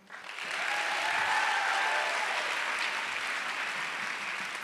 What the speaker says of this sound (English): let's give a round of applause to everyone who made tonight happen